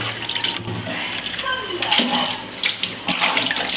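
Water runs from a tap in a steady, close splashing stream, while several people talk excitedly over it.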